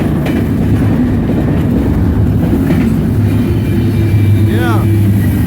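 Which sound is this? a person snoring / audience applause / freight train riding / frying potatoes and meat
freight train riding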